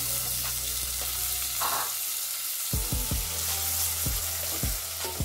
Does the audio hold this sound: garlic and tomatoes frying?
yes